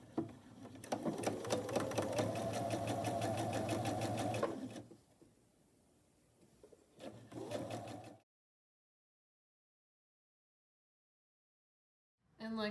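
Sewing machine stitching a 1/4 inch quilt seam in two runs: a long steady whirring burst, a pause, then a shorter burst, followed by silence and a brief restart at the end.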